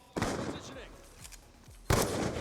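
Gunfire in Black Ops 2 during a trickshot with a pump shotgun and a DSR sniper rifle: two loud, sharp shots about two seconds apart, with quieter game sounds in between.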